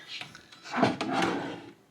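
A shallow drawer in a Boulder Ridge villa room slides open and shut with a woody rubbing scrape, one short movement followed by a longer sliding pass, close and moderately quiet.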